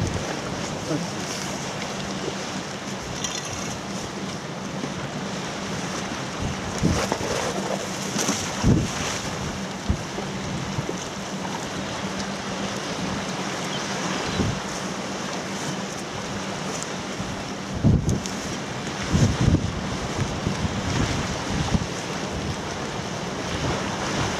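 Strong wind blows at the seashore, roaring steadily across the microphone with heavier gusts and buffeting thumps at intervals over a constant rushing background.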